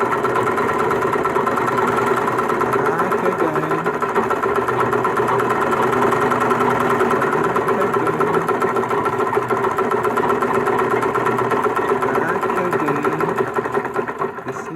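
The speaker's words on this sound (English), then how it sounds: "now my sewing machine is back again" A Butterfly sewing machine runs steadily and loudly after repair of its loose feed regulator, a fast mechanical whir with rhythmic needle clatter that continues throughout before easing slightly at the end.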